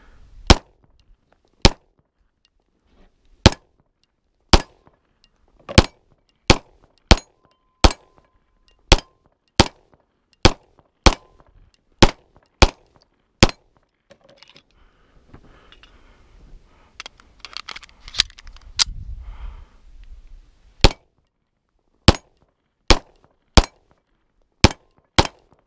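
Daniel Defense H9 pistol firing at steel targets outdoors, a long string of sharp single shots at a steady pace, with a short pause and faint rustling midway before another rapid run of shots.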